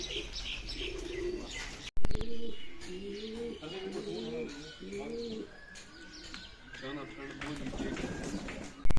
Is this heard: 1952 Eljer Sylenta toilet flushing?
no